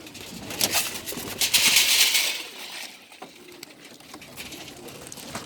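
Young Birmingham Roller pigeons give soft, high squeaking calls in a loft, with a denser burst of chirps early on before settling into fainter, scattered squeaks nearby.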